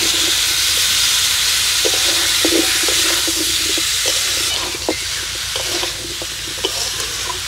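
Pumpkin pieces stirred and fried with giant prawns in a pan, a steady close sizzle with intermittent scraping clicks of the spatula.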